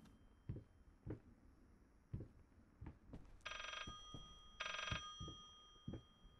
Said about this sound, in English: Seriously, that phone?